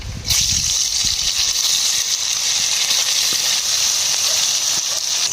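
Pomfret (rupchanda) fillets rubbed with salt and turmeric sizzle in hot oil in a wok, a steady loud hiss that bursts up as the fish goes in and holds evenly throughout.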